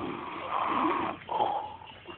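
A person snores loudly in a shared room, two long rasping breaths, close and alone.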